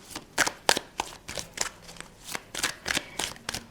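Tarot cards being shuffled by hand in a series of quick papery riffles and slaps, close and fairly quiet, with no talking.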